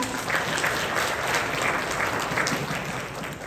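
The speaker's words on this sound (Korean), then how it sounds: "큰 박수 부탁드립니다." An audience at a corporate talent-management forum gives a speaker a big welcoming round of applause, a continuous, dense clapping from many hands at moderate volume with no talk over it.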